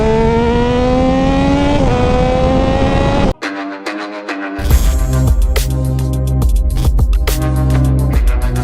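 A Dayton 675R accelerates hard on a road, its engine note rising steadily, then cutting out briefly at a shift before roaring back loud and close with a rougher, pulsing tone through the rest.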